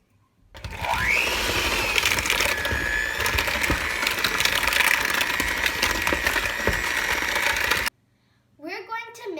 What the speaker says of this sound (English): We're going to mix the dry mixture with our wet mixture with the electric mixture again for a few minutes.